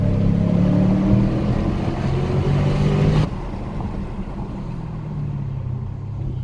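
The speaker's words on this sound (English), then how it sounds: "simply just blimp the throttle, just touch it like this, watch" A 2019 Dodge Challenger Scat Pack Widebody's engine gives a loud, deep, steady rumble up close, then drops abruptly to a lower, quieter idle about halfway through.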